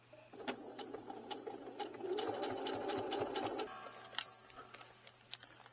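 A sewing machine runs in a steady stitching burst as two fabric front pieces of a wallet with a zipper pouch and card pockets are sewn, then stops, leaving a few close handling clicks and taps.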